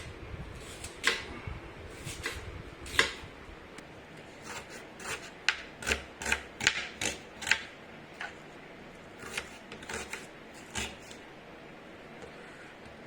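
A knife chops onion on a cutting board while a chicken curry is prepared, giving irregular soft taps that cluster into quick runs and then thin out, close and fairly quiet.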